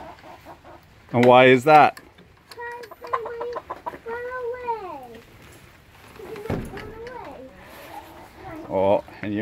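Chickens cluck and squawk nearby in bursts, with a loud squawk early on, while a child and an adult talk over them.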